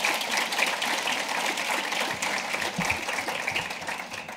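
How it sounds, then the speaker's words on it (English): Audience applause at a museum Day of the Dead (Día de los Muertos) celebration, a steady, dense wash of clapping from a sizable crowd throughout, with no talk over it. "Let's give her and all of them a round of applause."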